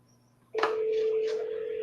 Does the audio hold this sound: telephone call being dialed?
yes